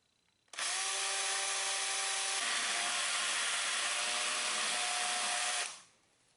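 An electric drill bores steadily into a wooden muzzleloading rifle stock while probing for a bolt hole, a loud, close, continuous whine lasting about five seconds with a slight pitch shift midway, then spinning down.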